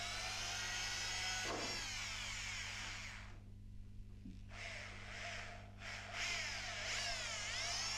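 A power drill drives screws into the bonnet of a 1980 Opel Kadett historic rally car, its whining motor rising and dropping in pitch over several short bursts with brief pauses between them.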